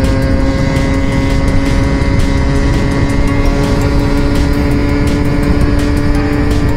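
A Honda MT 125cc motorcycle engine roars loud and close at high revs, a steady droning whine with rushing wind noise throughout.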